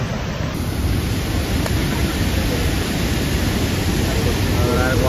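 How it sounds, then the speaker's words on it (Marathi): Rushing stream water on a mountain trek in the Brahmagiri and Kalsubai area: a loud, steady, broadband roar of flowing water with wind buffeting the microphone, continuous throughout. "बाबा तुम्हाला किती खतरनाक पाणी इथं बघा"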